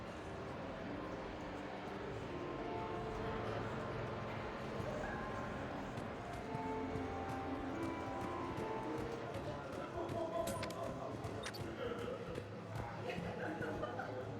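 Varren, the dog-like creatures of the video game Mass Effect 3, bark and yip repeatedly amid busy combat sounds, with game voices mixed in.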